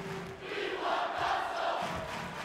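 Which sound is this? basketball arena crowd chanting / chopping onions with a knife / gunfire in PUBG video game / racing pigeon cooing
basketball arena crowd chanting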